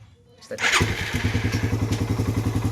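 A motorcycle engine with a manual cam chain tensioner at 20,000 km starts and settles into a loud, close idle with a rapid, even ticking rhythm.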